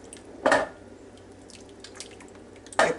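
Mushroom soup mixture is poured over potatoes, carrots and onions in a pot for an Angus beef chuck pot roast, making two brief wet splashes separated by a quiet pause.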